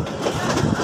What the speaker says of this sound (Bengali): ট্রেনটি কমলাপুর রেল স্টেশন থেকে নারায়ণগঞ্জের উদ্দেশ্যে ছেড়ে দিল